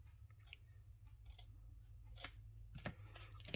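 Scissors snip through paper while shaping a faux book card from a template, several crisp separate cuts close up in a quiet room.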